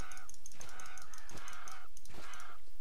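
Goose-like bird calls in the video game Titan Quest, a series of loud, close, repeated honking cries in an irregular rhythm over a steady background.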